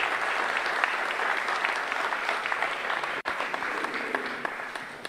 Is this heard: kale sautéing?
no